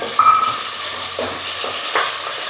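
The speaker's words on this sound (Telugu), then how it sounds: "సన్నగా కట్ చేసుకున్న పెద్ద సైజు ఆనియన్ అయితే వేసుకుందాం వేసుకొని బాగా కలుపుకుందాం అందులోకి పచ్చి కరివేపాకు వేసుకుందాం" Sliced large onion and fresh curry leaves frying in a pan, a soft sizzle with scraping stirs from a spoon, close and alone with no talk.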